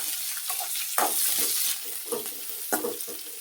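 Chopped citron (kanchekai) tips into hot oil for a Malnad-style sambar, setting off a steady, bright hiss that swells with a few sharper sputters, close and continuous, with no talking.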